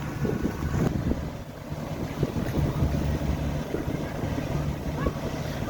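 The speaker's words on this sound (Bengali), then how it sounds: "মাঠে ধান তোলার জন্য হারভেস্টার মেশিনের ভিডিও আপনাদের দেখাচ্ছি" A combine harvester works a paddy field, giving a steady low engine drone under heavy wind buffeting on the microphone throughout.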